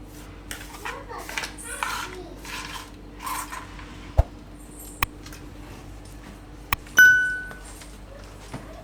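Broccoli pieces moved into another metal pot in a home kitchen: scattered clinks and taps of metal utensils and a few sharp pings, fairly faint, with a voice chattering in the background.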